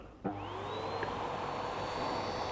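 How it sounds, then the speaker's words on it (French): An electric vacuum used to remove a bee swarm switches on with a sudden thump, its motor whine rising in pitch and settling into a steady hum, close and alone. "Je vais brancher l'aspirateur sur les secteurs"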